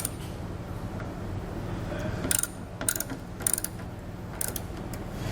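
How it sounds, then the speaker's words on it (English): A bolt being tightened with a 5mm Allen key while fitting a tailgate-lowering assist on a 2019 Ford truck, short metallic ratcheting clicks and scrapes in bursts, close and without speech. "So you can take your 5mm Allen key and tighten this up."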